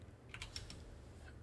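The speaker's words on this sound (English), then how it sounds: "I've got a very touchy keyboard, as you can see." Light clicking of a computer keyboard being typed on while working in SolidWorks 2025 CAD software, a short cluster of quick, fairly quiet key taps that fade into a soft room hum.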